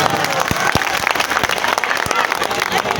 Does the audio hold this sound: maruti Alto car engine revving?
no